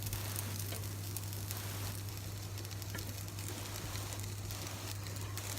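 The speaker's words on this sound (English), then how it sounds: "So I just lay the asparagus across the pan" Asparagus spears laid across a very hot, smoking pan give a faint, steady sizzle and soft crackle throughout, with a constant low electrical hum beneath and no talking.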